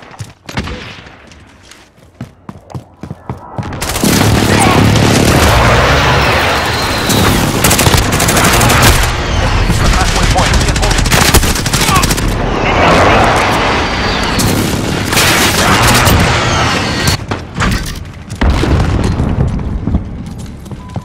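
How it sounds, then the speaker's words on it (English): Call of Duty: Modern Warfare multiplayer battle roars with a precision airstrike: heavy booming explosions and dense, rapid gunfire, loud and sustained after a quieter opening, with brief radio-style voice callouts. "Enemy precision airstrike."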